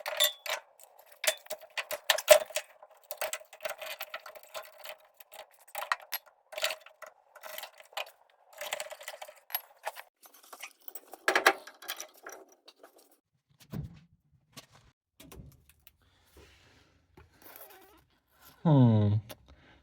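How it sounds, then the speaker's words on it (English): A jack lifting the cab of a 1956 International S1700 truck, heard as close, rapid bursts of ratcheting metal clicks. The clicks come in uneven runs, thin out partway through, and end with a short rising squeal. "So I'm gonna chuck the jack in, jack this side up"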